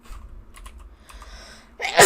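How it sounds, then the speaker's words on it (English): A single sharp, loud sneeze bursts out at the very end, after nearly two seconds of quiet room tone with faint clicks like light typing on a keyboard. "I'm gonna sneeze."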